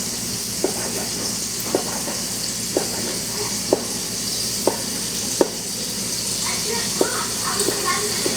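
A smoked pork chop, bone removed, sizzles in a pan with a constant hissing frying sound, broken by faint, evenly spaced clicks and taps.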